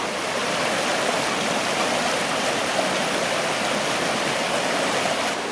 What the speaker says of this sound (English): But these are just some little rapids as the river heads towards the Ottawa River.